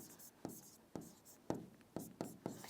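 A pen writes chemistry notes on paper in close, steady strokes, scratching in an even rhythm about every half second and ending each stroke with a firm tap.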